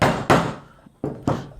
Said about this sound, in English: I'm just going to use the drill bit as a centre punch